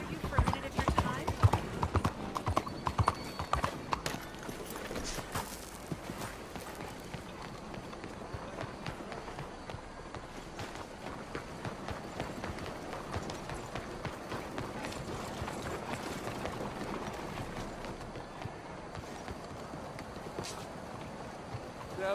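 In Red Dead Redemption 2, a horse's hooves clop in a quick, continuous trot on a city street, moderately close, under steady background bustle and distant voices.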